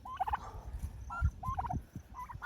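Backyard turkeys gobble in several short bursts, a few rattling calls spaced over a couple of seconds, fairly faint against quiet outdoor background.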